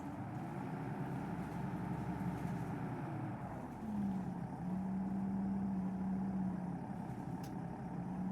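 A Scania OmniDekka double-decker bus engine in the OMSI 2 simulator pulls away, a steady low diesel rumble with a droning tone that steps up in pitch partway through, continuous and fairly close.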